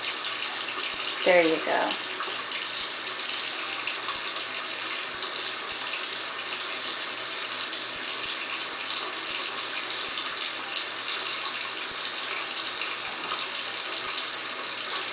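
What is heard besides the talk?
water running from tap while washing hands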